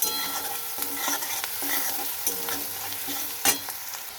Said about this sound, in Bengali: এবার আমি পেঁয়াজগুলো একটু ভেজে নেব, খুব বেশি ভাজবো না, হালকা হালকা ভেজে নেব।